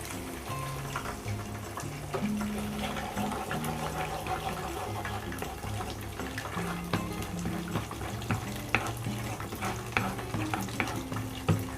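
Chicken frying in a pan with a splash of water added, giving a steady close sizzle with stirring scrapes and small clinks throughout.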